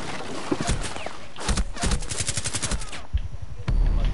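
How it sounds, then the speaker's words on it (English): Rapid bursts of gunfire from an online Rainbow Six Siege match, with repeated sharp automatic shots in clusters and a louder burst at the end, heard alone without talk. "It's a lot of gunshots."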